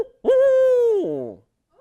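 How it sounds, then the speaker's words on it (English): A single sustained hooting call in the manner of a barred owl rises sharply, holds for about a second, then drops away. It is clear and close with no talk over it. "have you all ever heard the sound, the call that a barred owl makes?"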